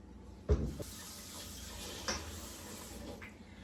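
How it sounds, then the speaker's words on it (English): A bowl is washed under a running kitchen tap: a soft, steady stream of water with a few louder clunks and splashes of the bowl being handled, fairly quiet and close, with no voices. "I'm gonna quickly wash that bowl."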